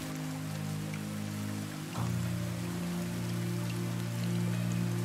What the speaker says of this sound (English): Yay, finally it's raining.